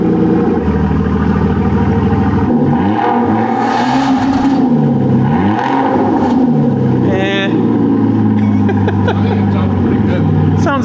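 Two V6 car engines rev and drone together, pitches rising and falling against each other in loud overlapping waves, with a brief high whine partway through.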